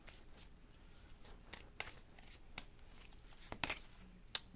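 Tarot cards shuffled by hand, soft papery riffles and sharp flicks and taps scattered irregularly, close but quiet against a faint background, with no voice.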